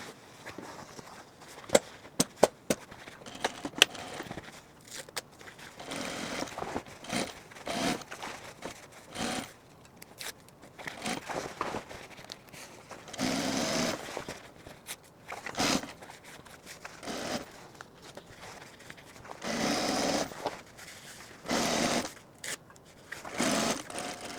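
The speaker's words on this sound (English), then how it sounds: "now we're going to sew this with our seam allowance onto the jacket" Sewing machine stitching a seam with seam allowance onto a rain jacket, running in repeated bursts of rapid mechanical whirring separated by short pauses and fabric handling, close by with no speech.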